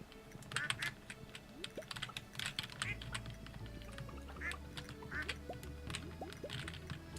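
Ducks quack repeatedly in the Stardew Valley farming game, short bright calls recurring every second or so over soft background game music and a clatter of keyboard typing.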